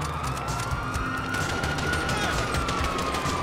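Rapid automatic gunfire and a wailing police siren in a Grand Theft Auto 5 shootout with police, dense continuous bursts over a steady siren tone throughout.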